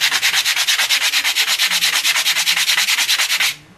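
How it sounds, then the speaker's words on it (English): Fast back-and-forth strokes of 100-grit sandpaper on wood while making a fingerboard, loud, close and steadily rhythmic, about ten strokes a second, stopping abruptly near the end. "sandpaper cuts through this wood real fast"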